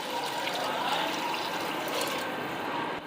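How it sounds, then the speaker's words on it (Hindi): Water pours steadily into a cooking pot of browning masala for chana pulao, a continuous close splashing rush with no talk. "अब इसके अंदर हम डाल देंगे पानी।"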